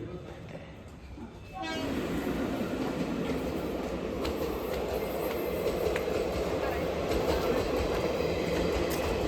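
A train rumbles past close by, starting abruptly and then holding a loud, steady roar of wheels on rails with faint rhythmic clatter.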